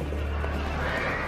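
A horse neighs in a short, loud burst over a dense, rough background, the whinny blending with a steady low rumble for just over a second.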